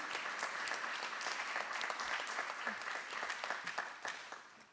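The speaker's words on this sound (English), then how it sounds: "So I just want to give them a round of applause really quickly." An awards audience at a film festival applauds the family featured in a documentary, with steady, full clapping from many hands that thins and fades away toward the end.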